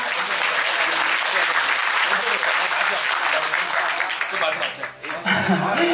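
A crowd at a Korean political talk concert in Mapo applauds to welcome a speaker giving congratulatory remarks, loud, dense clapping that holds steady before thinning briefly near the end and then swelling again.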